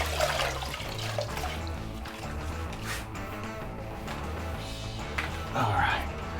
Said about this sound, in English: I'm wringing out my sponge really dry every single time.